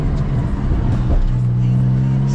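A Porsche 992 in sport mode: the engine revs with a loud, close roar that rises and then settles into a steady droning tone, with a brief voice faintly underneath.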